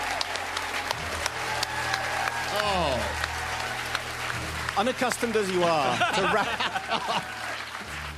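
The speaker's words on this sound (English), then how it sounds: "to rapturous applause" A live radio studio audience at the Edinburgh Fringe applauds a comedian with sustained clapping and some chuckles, while someone talks over it.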